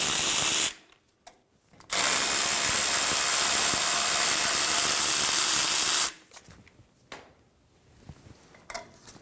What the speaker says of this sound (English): Using a 17mm socket, remove the caliper bolts.